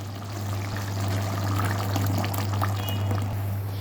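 Fresh tomatoes go into a simmering pot of cumin beef stew, a steady wet pouring and splashing over a constant low kitchen hum, close and moderately loud throughout.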